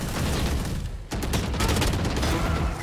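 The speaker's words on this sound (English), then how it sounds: "I shot in the noggin" Gunfire in the tactical shooter game Valorant crackles in a dense, loud stream of shots, with a brief break before it resumes without any talking.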